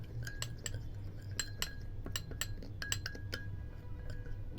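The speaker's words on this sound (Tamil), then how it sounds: "இப்போ இது எல்லா பொருளும் சேர்த்து நல்லா மிக்ஸ் பண்ணிக்கணும்" A spoon mixes besan, rice powder and pomegranate juice face pack ingredients with rose water in a bowl, producing quiet, rapid clinks and scrapes in an uneven rhythm, close by with a low hum beneath and no talking.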